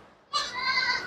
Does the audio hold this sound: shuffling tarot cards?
no